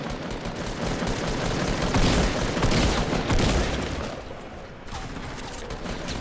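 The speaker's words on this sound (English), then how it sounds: "Oh, they're shooting up there." Sustained video game gunfire from enemies, a dense continuous barrage of overlapping shots and bursts that stays loud throughout, dipping slightly near the end, with no talking.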